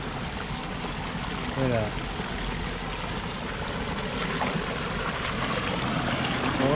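Shallow water flowing continuously over the rocks of Cajon Creek, California, at a gold prospecting spot, a close, steady babbling rush, with a voice speaking briefly over it.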